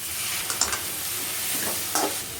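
Chopped tomatoes and half-softened onions fry in butter in a pan, giving a soft, even sizzle close up, with a few light scrapes of a spoon stirring them.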